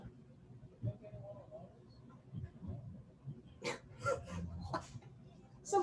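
A dog makes short whimpers, yips and barks at close range during a live game stream, mixed in among people talking and other background sounds.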